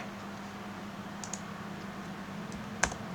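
Keystrokes on a computer keyboard tap quietly and sparsely against a low steady hum, with a few sharper clicks, one louder near the end, while a value is entered in SketchUp software.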